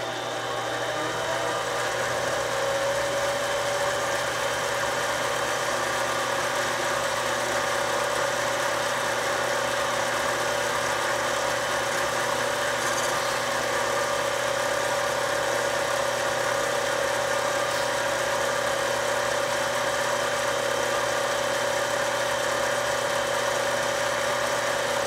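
A lathe spins while turning a metal tube, giving off a loud, steady, continuous motor hum with a constant whine and no pauses.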